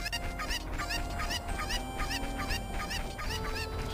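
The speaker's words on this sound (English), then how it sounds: "Are those chickens free again?" Loose chickens in Zelda: Ocarina of Time give a steady run of repeated clucks and squawks over busy game music, continuing without a break throughout and with no talk.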